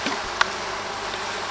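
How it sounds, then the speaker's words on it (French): Honeybees around a beehive in a rural French village garden: a steady buzzing drone with a brief sharp tap early on, no voices. "il y a plein d'abeilles dessus"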